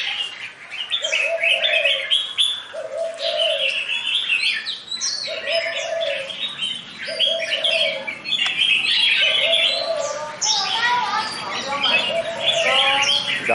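A caged red-whiskered bulbul sings bright, rapid chirping phrases again and again, while lower cooing notes repeat in a steady rhythm underneath and a voice talks at times.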